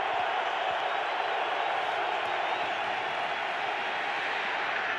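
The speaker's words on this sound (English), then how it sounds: "And listen to the crowd." Dense, steady roar of a football stadium crowd at a Seahawks home playoff game against the Rams, loud and continuous for the whole stretch with no breaks.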